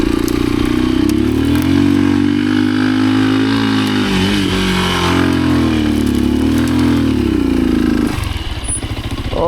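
Enduro motorcycle engine running loud and close at a steady idle with slight throttle swells, a deep continuous rumble that drops off near the end.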